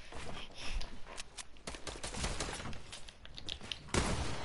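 Shotgun blasts in a video game, a run of loud sharp reports at irregular intervals over constant background game noise, with one heavy boom near the end.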